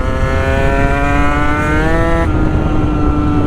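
A Sherco Supermoto 50 motorcycle with a big bore AM6 engine and 14-tooth front sprocket revs steadily and loudly, its pitch climbing before the throttle drops off sharply partway through into a rougher, lower idle-like drone.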